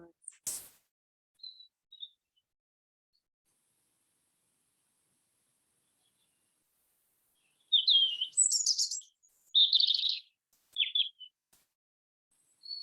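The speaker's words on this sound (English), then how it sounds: "Listen to the birds." Bird chirps at sunset near Glastonbury on the autumn equinox, heard as a few faint early calls and then a cluster of high, clear tweets in quick bursts over otherwise quiet surroundings.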